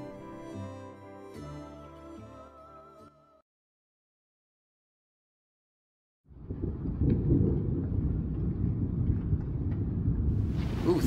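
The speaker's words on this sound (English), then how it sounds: "Ooh, thunder." Thunder in the video game Umineko Chiru arrives after a few seconds of silence, following a fading musical passage. It comes as a loud, low, sustained rumble that keeps rolling and building toward the end.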